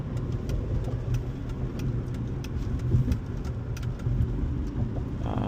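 A 2006 Mercedes C230 sedan driving on Miami streets, a low engine and road rumble with a couple of firm thumps from the suspension hitting bumps, steady cabin noise and faint rattles, no talk.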